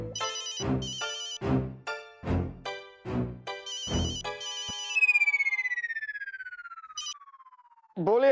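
A telephone rings after a redialled call in an animated comedy series, a rhythmic run of loud chiming bursts followed by a long, falling electronic tone and a final sharp chirp.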